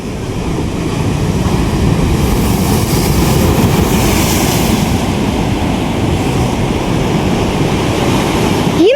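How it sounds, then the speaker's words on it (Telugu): A continuous, heavy roar of ocean surf on the Kerala coast with wind buffeting the microphone, loud and close, without clear breaks between waves. "అసలు ఇంత ఇంత ఇంత భయంకరంగా వస్తున్నాయి అలలు"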